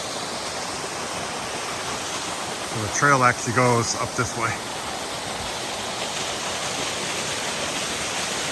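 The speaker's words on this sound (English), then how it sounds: "A lot of water, a lot of waterfalls." Swift Water waterfall on the Franconia Ridge trail pours in a steady, broad rushing roar nearby, with someone speaking briefly over it.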